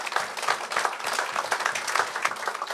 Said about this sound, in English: give Marva a lusty hand of applause